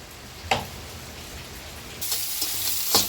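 Ground coriander and cumin added to hot oil sizzle and crackle in a pan, a soft hiss with a couple of stirring scrapes, then a louder, brighter sizzle in the final second.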